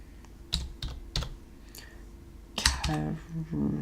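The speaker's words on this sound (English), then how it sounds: "Let me type." Keys on a computer keyboard click in a few scattered, close bursts, with a voice talking over the later part.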